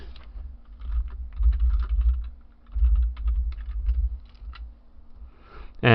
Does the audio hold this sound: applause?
no